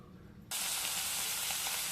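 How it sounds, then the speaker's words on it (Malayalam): Coconut oil hitting a hot pan bursts into a loud, steady sizzle after a brief quiet moment, continuing evenly without pause and with no talking. "ചട്ടി ചൂടായപ്പോൾ ഇത്തിരി വെളിച്ചെണ്ണ ഒഴിച്ചു കൊടുത്തിട്ടുണ്ട്."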